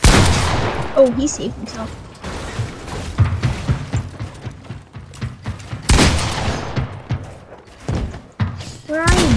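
Fortnite gunfire: repeated sharp shots and thumping bursts in irregular clusters, loud and close, with game effects and someone talking between the shots.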